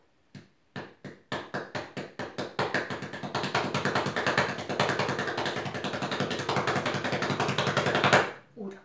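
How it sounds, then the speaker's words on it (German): Hands pat on a wooden floor in a music-school room, starting as separate slaps and building into dense, fast, loud patting that runs several seconds before stopping abruptly. "Probiert mal, wie der Boden klingt. Patsch mal auf den Boden."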